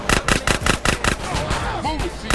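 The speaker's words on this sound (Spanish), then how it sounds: "Es una metralleta pequeña." A small submachine gun in GTA: San Andreas fires a rapid, evenly spaced burst of about eight loud shots, then a brief trailing clatter and echo.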